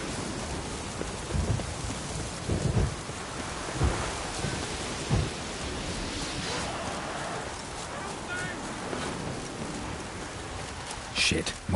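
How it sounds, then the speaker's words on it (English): Thunderstorm in The Witcher 3 Game of the Year Edition: steady, dense rain hisses throughout while several deep thunder rumbles roll in and out, ending with a closer, sharper crack. "A storm, damn it."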